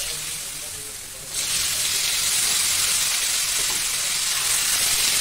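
Chopped pointed gourd and potato with cumin and turmeric drop into hot oil in a pan. A quieter stretch gives way to a sudden loud, steady sizzle that holds to the end.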